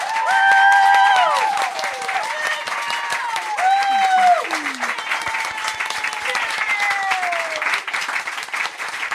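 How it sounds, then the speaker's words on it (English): Loud clapping from a live audience with a scattered crackle of hands while several voices call out and whoop over the top, some rising and falling tones weaving through the applause. "We also loudly clap for you three."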